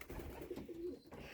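Racing pigeons coo in a loft, a low throaty rolling call close by, with one or two brief coos over a steady room background.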